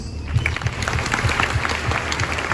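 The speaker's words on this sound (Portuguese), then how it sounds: "uma salva de palmas para o salmista." Church congregation applauding the psalm singer at an Advent Sunday Mass, a lively burst of many hands clapping in a reverberant hall, dense and fairly loud throughout.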